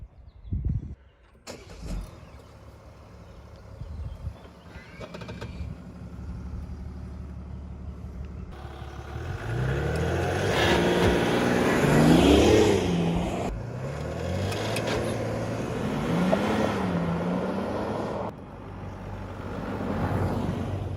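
A 2020 Mercedes-Benz GLE Coupe 400d engine starts and idles, then revs up as the vehicle pulls away, the engine note rising and falling through gear changes, close by.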